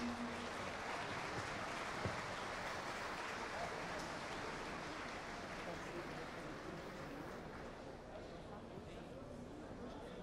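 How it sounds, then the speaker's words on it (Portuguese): At an archdiocesan synod, a gathered crowd claps as images of saints are carried in, the applause faint and distant but continuous, mixed with a low murmur of voices. "Uma salva de palmas."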